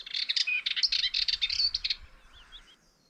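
A Dartford Warbler's call is played back from a recording: a fast, scratchy, chattering song of rapid buzzy notes, fairly clear and close, ending in a few thinner chirps.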